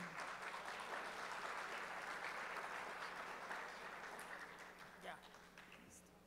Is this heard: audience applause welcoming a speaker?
yes